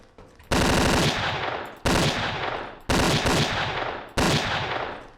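An assault rifle in the 2009 FPS Creator shooter Decay fires four loud, evenly spaced bursts of rapid automatic shots. Each burst cuts off sharply and leaves a brief decaying echo.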